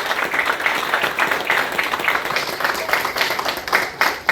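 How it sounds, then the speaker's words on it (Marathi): An audience at a journalists' association founding ceremony applauds, giving dense, sustained clapping that fills the room at an even loudness for several seconds. "कृपया दोघांसाठी टाळ्यांचा कडकडाट करा"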